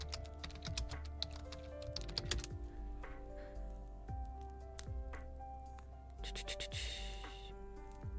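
Fingers type on a mechanical keyboard fitted with translucent jelly keycaps, a fast, close run of light clicks and taps that continues throughout with only short pauses.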